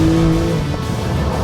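A Porsche 911 GT2 RS with its exhaust flap open gives a loud, steady engine drone with a deep humming tone that shifts slightly in pitch, close and continuous.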